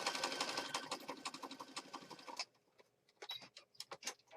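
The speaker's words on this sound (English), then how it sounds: "Gives it a little bit more interest if you stitch around it." A sewing machine stitching around paper in a junk journal, a fast, even run of close mechanical clicks that stops halfway, followed by a few scattered taps and rustles.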